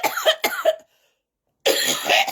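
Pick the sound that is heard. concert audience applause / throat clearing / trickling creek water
throat clearing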